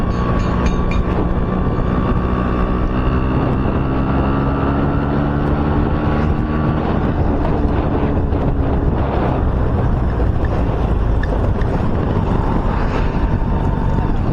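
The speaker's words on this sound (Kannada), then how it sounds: "ನಮ್ಮ ಗಾಡಿದು ಸೌಂಡು ಹೆಂಗೆ ಬರ್ತಿದೆ. ಸ್ವಲ್ಪ ನಾಯ್ಸ್ ಜಾಸ್ತಿ ಇದೆ ನನಗೆ ಗೊತ್ತು" A Yamaha RX135 motorcycle engine drones steadily while riding, loud and close throughout, mixed with heavy wind rush on the microphone.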